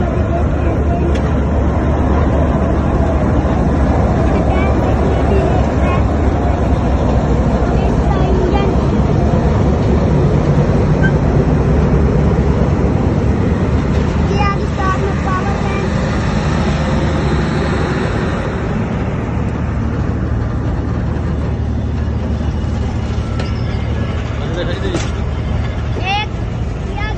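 A train pulls out of Multan station and switches tracks, making a loud continuous rumble and rolling wheel noise close by, with squeals and clatter near the end and people talking over it.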